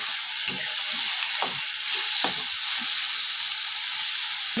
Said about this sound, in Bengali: এবার পেঁয়াজ বাটাটা দিয়ে ভালো করে এটা কষাবো।